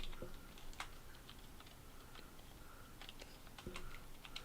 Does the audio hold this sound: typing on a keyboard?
yes